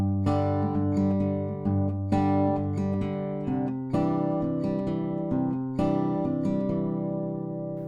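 Plucked acoustic guitar notes ring out in a repeating picking pattern, with bass notes alternating with brighter treble strings in a steady, flowing rhythm, played solo and up close.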